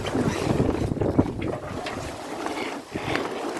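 Steady wind gusts buffet the microphone outdoors near a sailboat, a rough continuous rush with brief dips and no talking.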